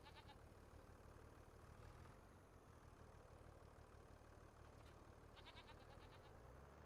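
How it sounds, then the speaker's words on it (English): Goats bleat faintly in Farming Simulator 25, two short quavering calls heard at a distance over a low, steady engine idle, with no talk. "So there's my little goats."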